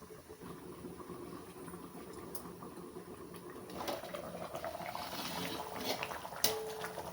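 Andhra-style fish curry bubbling on high heat on the stove, a continuous low boiling rumble and hiss that grows a little stronger near the end, with a sharp clink.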